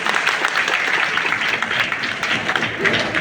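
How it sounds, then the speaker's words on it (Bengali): An audience claps steadily throughout to welcome first-year students at a college orientation ceremony. The applause is dense, even and sustained. "আমরা সবাই তাদের উদ্দেশ্যে একটি হাততালি করি।"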